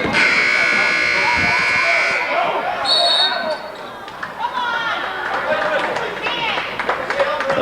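Loud electronic buzzer sounding through a JV girls' basketball game in a gym, a sustained tone for about two seconds followed by a shorter burst, over crowd noise, sneaker squeaks and people talking.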